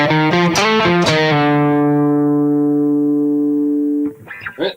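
Electric guitar plays a riff: a few quick plucked, effects-laden notes, then one note rings out and sustains for several seconds before a short burst of further picking at the end.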